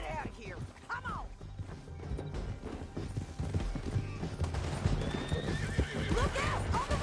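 Hooves pound in a fast gallop amid clattering action noise in Red Dead Redemption 2, with a horse neighing near the start and again toward the end.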